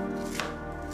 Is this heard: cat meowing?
no